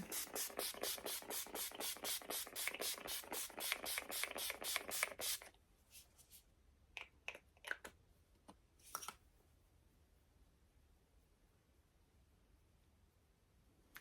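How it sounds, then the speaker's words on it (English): A rapid series of fine mist pumps from an Urban Decay makeup setting spray, about twenty quick pumps in a steady rhythm, then a few scattered softer clicks and sprays before quiet. "I'm gonna set it with my Urban Decay setting spray"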